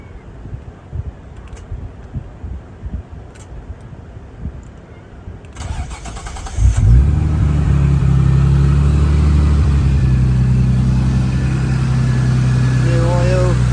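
A Nissan R33 Skyline engine, freshly serviced with new oil, cranks and fires up after a stretch of quiet shuffling, then settles into a steady, loud, close idle that holds to the end.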